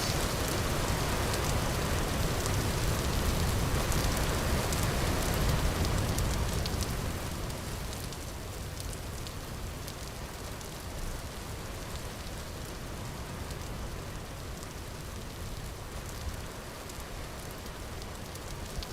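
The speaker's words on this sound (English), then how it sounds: "the rain is not drowning me out" Steady, dense rain in a video game hissing continuously, louder at first and then settling to a softer, even patter for the rest of the clip.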